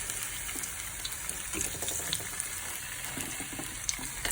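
Potatoes fry in coconut fat with a dense, continuous sizzle and crackle at a steady level, with no voices.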